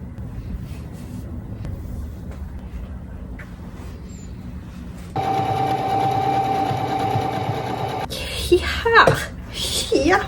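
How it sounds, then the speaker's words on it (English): Sewing machine stitching around a hoodie's hood brim in one steady, whirring run of a few seconds, close and clear, following quieter handling noises and then rustling fabric. "we're gonna sew around the brim"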